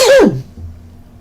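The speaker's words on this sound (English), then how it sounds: "pardon me, I am going to sneeze" A single loud sneeze close up, a sharp burst that quickly falls away, followed by a faint low hum.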